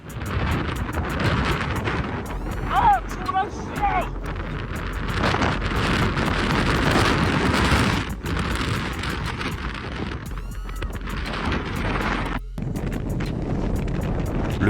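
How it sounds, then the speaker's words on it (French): Sandstorm wind buffeting the microphone at Mount Edu in Manjialangu, Xinjiang: loud, continuous broadband roar with gusty surges throughout, brief faint whistling tones early on and a momentary dropout near the end. "Tempête de sable au mont Edu à Manjialangu"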